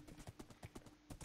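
Horse hooves clip-clop in the Minecraft video game, a quick, even run of about eight soft, muffled hoofbeats close by.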